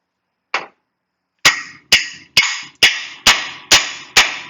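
A hammer strikes a Chevrolet Silverado tie rod end to shock it loose, one metallic clank followed by seven sharp, evenly spaced ringing blows, close and loud with no talking.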